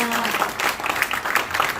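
Loud, dense applause from an audience at a church fundraising night rolls on without a break for under two seconds, many hands clapping close to the room microphone.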